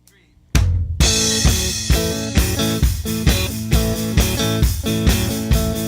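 A loud, close rhythm guitar plays a chugging, shuffling blues pattern with repeated low chords in a steady, bouncing groove.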